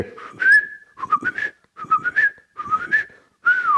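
A person whistles five short, close, loud phrases, each a bright tone that slides up and down, separated by brief pauses, with no other sounds around it.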